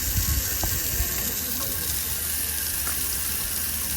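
Tap water running steadily into a sink with a continuous hissing splash, fairly close and unbroken throughout.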